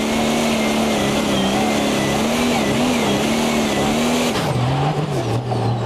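A prostock pulling tractor engine roars at sustained high revs throughout a tractor pulling run at an outdoor event, loud and steady with slight pitch wobbles, then drops as the pull ends.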